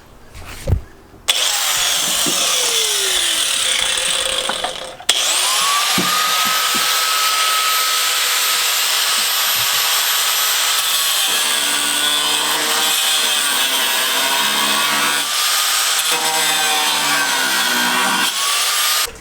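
A power tool whines loudly and continuously as it cuts through a car's steel firewall panels during a right-hand-drive conversion, starting after brief bursts and running steadily with wavering pitch to the end.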